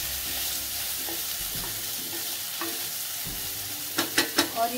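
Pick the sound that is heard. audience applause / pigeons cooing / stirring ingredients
stirring ingredients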